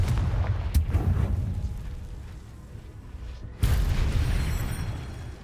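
Confringo fire-blast spell exploding in a Harry Potter video game: a heavy booming burst with a rumbling tail, followed by a second loud blast that rolls on into continued low roaring.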